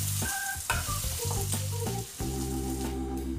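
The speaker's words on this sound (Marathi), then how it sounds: "आता आपण हे मटार यामध्ये छान शिजवून घेणार आहोत" Ground green peas with a chilli, ginger and garlic masala cook and sizzle in a pan, with steady frying hiss and spoon stirring throughout, backed by continuous tonal background music.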